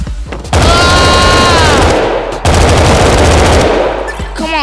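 Sustained automatic weapon fire in a shooter video game, a loud rattling stream of rapid shots, split by a short break and then resuming.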